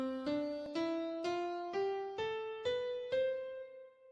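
Eight piano notes step upward one at a time in an even rhythm, a clear ascending major scale played alone with the last note ringing out.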